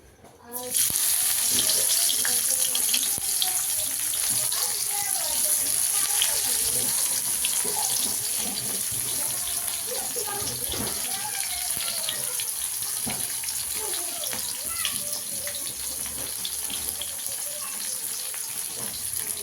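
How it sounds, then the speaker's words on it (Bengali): Onions frying in hot oil with bay leaf and black cumin for a home chicken dish, a loud continuous sizzle from start to finish, with a voice speaking over it at times. "দেখো পেঁয়াজগুলোকে দিয়ে দিলাম পেঁয়াজগুলোকে একটু মেরুন করে ভেজে নেব"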